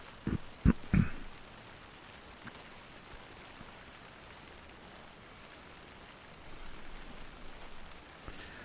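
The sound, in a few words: rain in a video game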